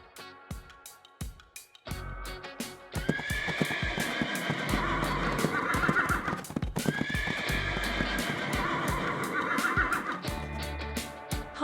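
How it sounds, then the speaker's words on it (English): A horse whinnies twice, each call a long, loud, wavering neigh, with steady hoof clip-clop and stamping underneath throughout; no voices. "Horse."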